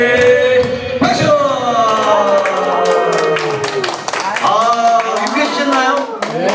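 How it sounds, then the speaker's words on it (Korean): An audience at a laughter therapy session claps in unison, a loud, dense burst of many hands. Voices mix in and around the clapping. "박수"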